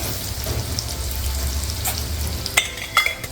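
Vada pav potato filling stir-fries in a pan, with a soft continuous sizzle and scraping stirs, then a couple of sharp clinks of a spoon against the pan near the end, no speech.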